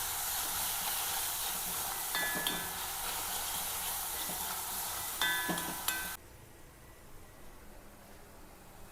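Sliced onions fry in a hot pan for a curry, making a loud, continuous sizzle and hiss with a few stirring scrapes, until the sizzle cuts off abruptly and only quiet room noise remains.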